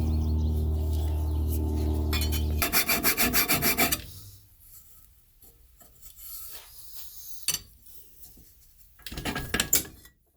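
A metal part from an electric Craftsman mower is filed by hand in a backyard, producing quick rasping strokes, first in a dense burst and then in sparser scrapes with pauses. A steady hum underlies the opening.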